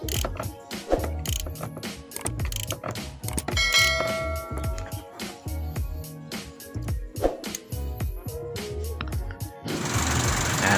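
A hand tool tightens a 14mm nut on an Isuzu MUX tensioner pulley, giving a rapid, irregular series of close metallic ratchet clicks and clanks. A rougher whirring burst comes near the end.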